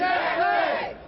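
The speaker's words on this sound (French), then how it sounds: "Des sympathisants portés par la foule" Political supporters at a Jean-Marie Le Pen rally in France on 1 May 2002 cheer as a dense crowd. A short, loud burst of many overlapping shouting voices rises together, then fades.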